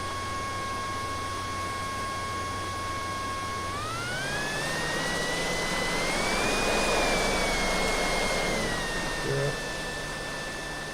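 Simulated Osprey tiltrotor engines in the RealFlight Evolution game, a steady turbine whine that rises in pitch midway and holds, with someone talking over it.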